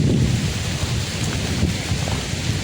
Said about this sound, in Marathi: पाऊस पण आला आणि वारा पण आला भाई.